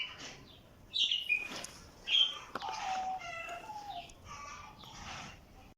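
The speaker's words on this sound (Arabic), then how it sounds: "الكناري والاصوات" Canaries singing in a home aviary, bright chirps and short warbled phrases coming in bursts, fairly close, with a faint hiss of background noise between the calls.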